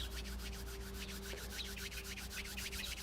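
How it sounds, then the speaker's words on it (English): Hands rubbed briskly together in a steady back-and-forth rhythm, close and fairly loud, with a faint low hum underneath and no talking. "we rub the hands together"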